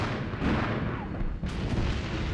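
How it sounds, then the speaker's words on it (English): Artillery and tank gunfire volley in Armored Brigade 2, a Soviet armored warfare game: dense, continuous booming and cracking blasts, with a sharp heavy report near the middle cutting through the rumbling barrage. "Massive volley of fire going on right now."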